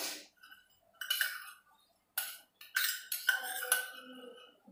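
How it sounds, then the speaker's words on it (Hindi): A metal spoon scoops sugar into a tea pot, with a few separate clinks and scraping bursts against the vessel between short quiet gaps. "इसमें चीनी डालेंगे। 3 कप के हिसाब से 3 चम्मच चीनी,"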